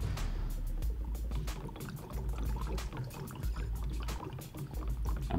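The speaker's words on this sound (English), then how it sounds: "I'm bubbling the ethyne gas through the potassium permanganate" Ethyne gas bubbles through potassium permanganate solution, making a continuous liquid gurgle with rapid irregular pops and splashes, close and fairly loud.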